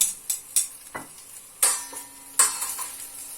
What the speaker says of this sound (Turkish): Sucuk ve salamlarımı pişireceğim şimdi.